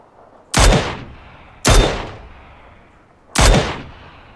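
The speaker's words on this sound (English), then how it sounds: "Someone's shooting at me now." Three loud gunshots in the shooter game PUBG, each a sharp close crack with a short decaying echo, spaced about a second or more apart.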